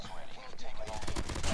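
Rapid gunfire from a weapon in Call of Duty Mobile, a dense chattering burst building up in the second half, fairly close and steady.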